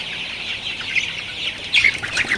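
Thirty-two-day-old Sonali super hybrid chickens on a farm give short, high chirps and clucks close by, growing busier toward the end.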